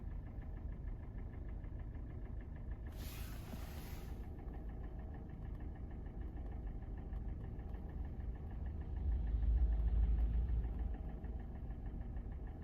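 A Kia Sportage's G4NA engine idles steadily after a cold start with a continuous low rumble and faint ticking, swelling slightly near the end, with a brief hiss early on.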